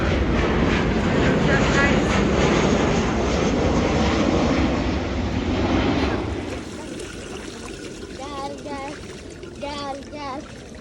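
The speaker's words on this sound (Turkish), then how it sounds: "Uçak geçiyor." A loud, steady airplane engine roar fills the first six seconds, then fades into a quieter background with voices and bird-like chirps.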